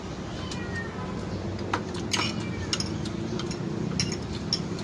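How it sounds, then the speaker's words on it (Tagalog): A cat meows a few times outdoors, fairly faint short calls rising above a steady background hum, with small clicks and ticks scattered throughout. "Pusa dito."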